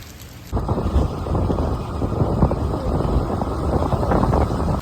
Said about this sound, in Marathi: पाऊस बघा केवढं मोठ्या नाद होतो